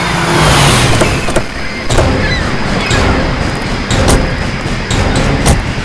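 A car slowing and pulling over to stop by a tree at the roadside, engine and road rumble steady and fairly loud, with a few door-like knocks and thumps near the end; no speech.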